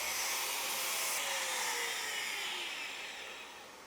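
An angle grinder works down weld bend-test straps, a loud, steady high-pitched whir that spins down and fades near the end.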